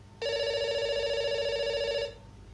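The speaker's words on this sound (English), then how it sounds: "It's ringing." Telephone ringing in the video game Dr. Langeskov, The Tiger, and The Terribly Cursed Emerald, a steady electronic ring sustained for about two seconds, clear and loud over quiet background.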